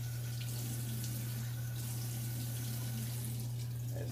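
Hot water runs steadily from a tap for rinsing after a straight-razor shave, a continuous close splashing flow with a low steady hum beneath it and no talking.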